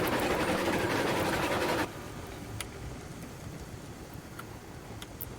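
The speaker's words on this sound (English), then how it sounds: "Oh, I'm running alongside the train." A train runs in the railway game Railroads Online with a steady mechanical rumble and clatter, loud and close for the first two seconds, then dropping abruptly to a quieter, more distant roll with a few faint clicks.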